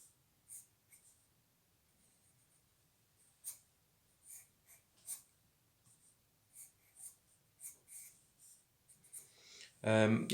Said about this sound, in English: I'm doing my first sketch line